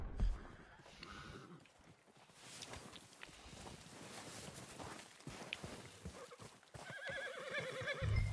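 Horse whinnying in the open-world Western game Red Dead Redemption 2, a whinny rising out of game ambience and hoof clip-clops, with a fuller snort-like call near the end.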